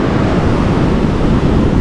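Sea water surges and washes into a coastal cave, a loud, continuous rushing roar of waves with wind buffeting close to the microphone and no talking.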